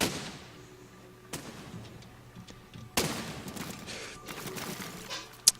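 Cannons fire in Besiege, a physics building game, with three sharp booms spread apart, each trailing off into rumbling debris and clatter, plus a small crack at the end.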